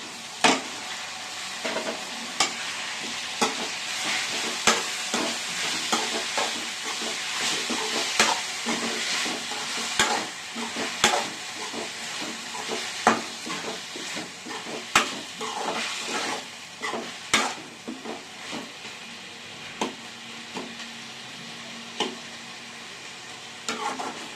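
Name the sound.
onions and tomatoes sautéing in a pan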